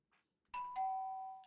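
A two-tone ding-dong doorbell rings once in the Danganronpa: Mauve video game, the bright chime sustaining and slowly fading, preceded by a faint soft sound, with no talking.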